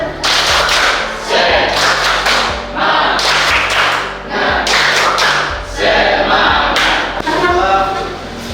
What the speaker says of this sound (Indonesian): Seperti biasa, kita tepuk semangat.